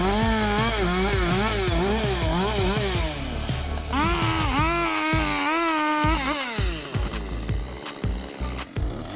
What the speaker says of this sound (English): he continues putting the chainsaw blade into the large tree trunk